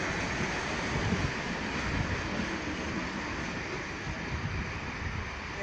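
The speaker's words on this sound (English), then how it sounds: "the leading steam locomotive pulling this train was" A steady, loud rumbling roar of a steam-hauled train, locomotive 5917, rolling into a platform. No distinct whistle or chuffing stands out.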